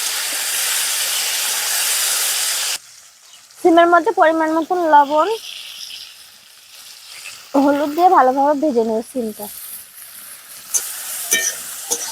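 Beans dropped into hot oil with dry chilli and panch phoron for a fish chorchori, a loud steady sizzle at first, then someone speaking in bursts over quieter frying and brief clinks.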